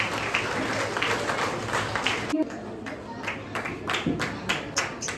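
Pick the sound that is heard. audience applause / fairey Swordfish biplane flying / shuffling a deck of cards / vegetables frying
audience applause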